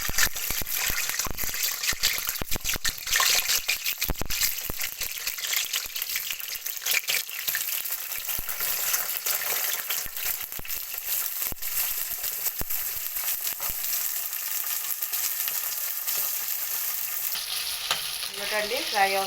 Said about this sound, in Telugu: ఇప్పుడు డీప్ ఫ్రై చేద్దామండి ఈ వంకాయల్ని.